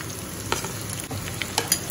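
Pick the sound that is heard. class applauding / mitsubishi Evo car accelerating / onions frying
onions frying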